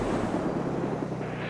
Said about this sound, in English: The fireworks always sound so big.